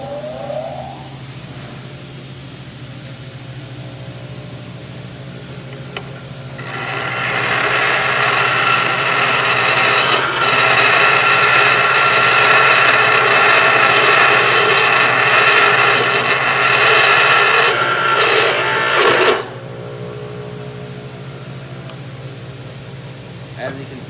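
A power grinder grinding off a MIG weld on metal, a loud sustained harsh whine lasting about thirteen seconds, starting abruptly and cutting off sharply, with quieter workshop hum before and after.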